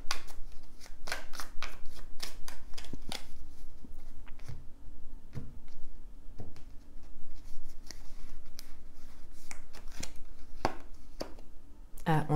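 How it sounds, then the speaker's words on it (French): Tarot cards are handled and shuffled, giving irregular crisp flicks, slaps and snaps at close range, with a quiet voice faintly present beneath. "Je vais rajouter une carte."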